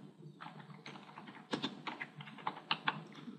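Keys clatter on a computer keyboard as someone types, a quick irregular run of close, light clicks that grows a bit louder and denser toward the end, with no talking.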